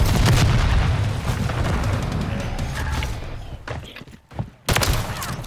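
Heavy battlefield gunfire and booming blasts in the Call of Duty video game, a loud, dense barrage that thins out and briefly drops before another burst hits.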